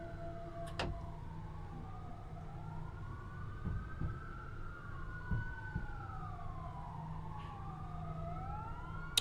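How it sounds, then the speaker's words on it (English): Two wailing sirens in a train simulator game rise and fall in overlapping sweeps, heard from a distance over a low rumble of traffic, with a few brief clicks and thumps. "I hear all the sirens going off"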